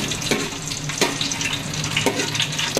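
Whole spices such as bay leaf fry in hot oil for chicken biryani, a close, continuous crackling sizzle with a few sharper pops and clinks from a pan.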